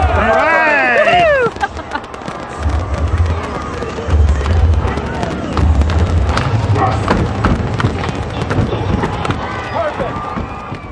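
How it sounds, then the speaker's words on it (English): Fourth of July fireworks boom repeatedly in deep, heavy bursts, with whistling rises at the start, all mixed into loud crowd chatter and cheering throughout. "Let the fireworks begin."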